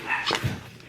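A dog nearby gives one or two quick barks or yelps, a brief sharp burst followed by a fading tail and quiet room tone.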